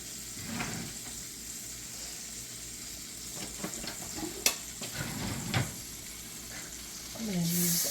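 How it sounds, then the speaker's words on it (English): Butter browning in a pan, a quiet, steady sizzle broken by scraping stirs of a spoon and a few sharper clinks, with brief speech around it. "Oh, that butter's browning."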